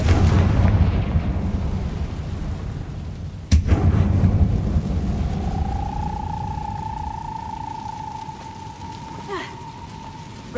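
A Confringo fire spell explosion in the video game Hogwarts Legacy, heard as a sharp loud burst over a steady rumbling, rain-like roar, followed by a sustained tonal hum that lingers while the crackling bed continues.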